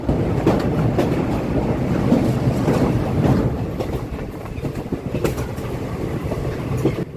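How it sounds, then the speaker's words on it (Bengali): Train crossing a rail bridge over the Gomati river, a loud continuous rumble and rattle of carriages with irregular clanks rolling along steadily with no pause. "পার হচ্ছি গোমতী নদীর উপর রেল ব্রিজ দিয়ে।"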